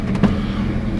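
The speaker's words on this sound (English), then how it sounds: "And the running truck." A 3/4-ton Chevy truck engine idles with a low, steady rumble heard from close by inside the cab, with a brief louder bump early on.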